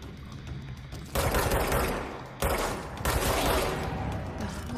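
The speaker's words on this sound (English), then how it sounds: "Who's shooting?" Gunfire in the video game Control, dense rapid bursts of automatic shots in several loud volleys separated by brief lulls, close and sustained with no talk over it.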